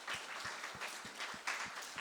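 An audience gives applause of thanks at a church youth service, faint and distant, a sparse rhythmic clapping of steady beats with a soft crowd wash behind.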